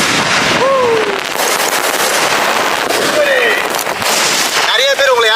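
Icon firecrackers from Sivakasi crackle in rapid, dense bursts close by, loud and continuous, with whistling squeals rising through the popping and voices shouting over the din.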